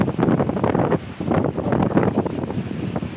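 Strong wind buffets the microphone on a cold beach, a loud, continuous rumbling roar with surging gusts throughout.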